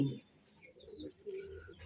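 Soft pigeon cooing and a few faint chirps, with some low murmuring in the background.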